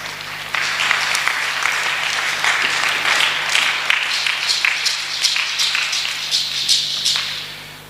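Church congregation applauding at a Sunday service, a dense, sustained round of clapping from many people filling the room, with a few sharper individual claps standing out.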